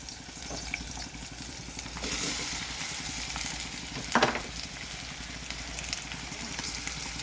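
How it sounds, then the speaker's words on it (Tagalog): Shrimp tossed into a hot pan for a Bicol-style pancit bato, giving a steady close sizzle with scraping stir strokes and a brief louder burst of spatter midway. "haluin ilagay ang hipon"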